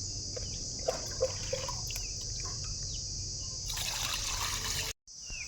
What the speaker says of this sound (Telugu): ఇప్పుడు మనము చికెన్ని వాష్ చేసి పెట్టుకుందాం.